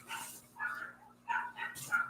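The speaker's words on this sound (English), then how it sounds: "you can hear my dog barking." A dog barks indoors, three or four sharp barks spaced irregularly, fairly close but not loud, over a faint electrical hum.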